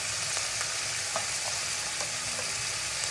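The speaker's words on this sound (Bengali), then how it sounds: "ভালো মতন নেড়ে চেড়ে নিব" Spices with salt, chili powder and turmeric fry in hot oil with a steady close sizzle, while a spoon stirs them through with faint scraping clicks across a few seconds.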